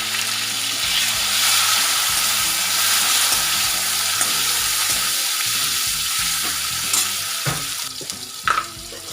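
Tomatoes frying in oil for a carrot and capsicum curry, a constant crackling sizzle over a background tune, with a few stirring knocks near the end.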